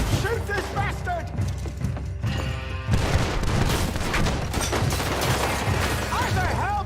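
Gunfire in the video game Red Dead Redemption 2, a dense shootout of sharp cracks and booms overlapping continuously, loud and close, with character voices shouting over the shots.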